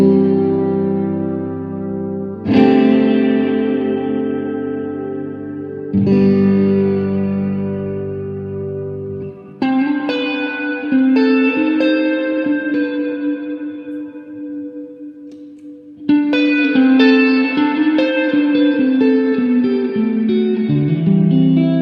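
A Strat electric guitar running through a Space Echo into a Vox AC30 plays a clean tone. Sustained chords and single notes ring out with echo repeats and reverb, loud and close, with no talking.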